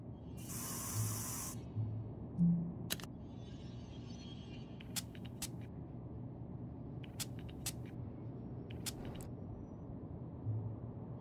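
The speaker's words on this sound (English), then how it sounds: "I'm spraying my pits while thinking about proposing to you" In the video game Fragments of Him, deodorant is sprayed under the arms in one short hissing burst near the start, followed by faint scattered clicks and a quiet room hum.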